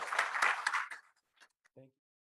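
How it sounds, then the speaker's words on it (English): An audience gives a brief round of applause to thank a speaker after a hemp program update. The clapping is dense for about a second, then fades to a few scattered claps, and a short voice sounds at the end. "So please join me in thanking Pat again with a round of applause"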